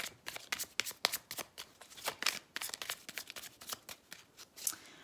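A deck of oracle message cards being shuffled by hand, a steady run of crisp riffling slaps and flicks at close range with no voices.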